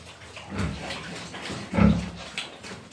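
Two short, low grunting snorts from a sow during artificial insemination, close by, over a steady background hiss.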